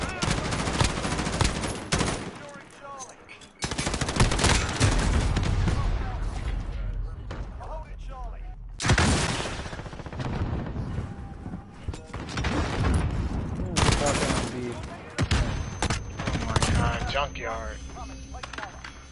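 Loud marksman rifle shots and other gunfire in a PS4 shooter, heavy cracks and booms in clustered bursts separated by brief lulls, with a voice talking between them.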